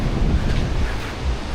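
Sea waves on the Latvian coast, a steady low wash of surf mixed with heavy wind rumble on the microphone, continuous and fairly loud with no voices.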